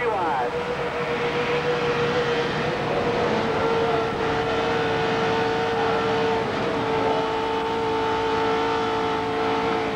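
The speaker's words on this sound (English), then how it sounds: "Let's listen to Junior's onboard, see if that helps determine what happened here" Onboard engine roar from a NASCAR stock car racing at Talladega in 2005, loud and continuous at high revs, with a steady engine drone and pack racing all around and no pauses.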